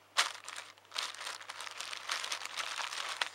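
A plastic bag crinkling and rustling continuously at close range, with an initial sharp crackle followed by steady handling noise.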